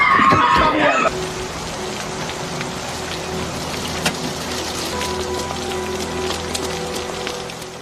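Heavy rain falls steadily in a film scene from the 1996 drama Lolita as a girl rides off on a bicycle; a brief burst of voice opens it before a dense, even wash of rain takes over.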